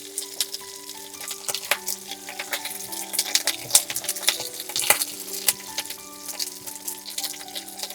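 Onions fry together with beef in a pot, a soft crackling sizzle with scattered sharp pops and occasional scraping of a utensil against the pot, steady and fairly quiet throughout.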